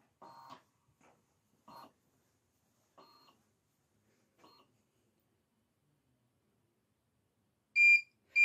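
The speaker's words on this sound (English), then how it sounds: "For some reason, it just didn't work, so it beeps at me." A Siser Juliet vinyl cutting machine makes a few soft mechanical clicks and whirs after a failed cut, then a loud electronic beep near the end, a second beep starting just as it cuts off.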